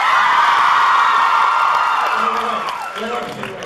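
Convention panel crowd at DallasCon whooping, cheering and applauding loudly, the roar gradually tapering off toward the end with a few voices emerging.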